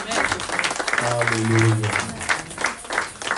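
A church congregation applauding together during a French-language worship service, a brief burst of clapping with a voice calling out over it.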